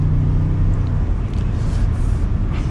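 A 2022 Ford F150 Tremor pickup gives a low, steady engine rumble while driving, swelling slightly as it picks up speed, with road noise around it.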